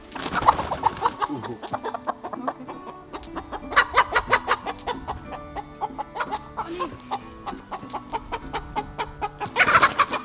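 Several chickens cluck and squawk in bursts close by in an old barn, with sharp pecking or tapping sounds scattered throughout.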